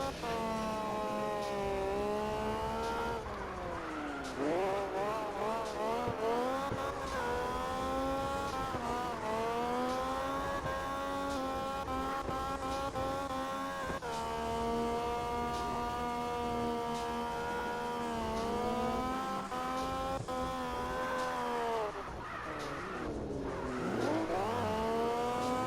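Drifting car in CarX Drift Racing Online, the engine revving hard through repeated rising and falling gear pulls while tires squeal continuously, loud and steady for the whole stretch with no talk.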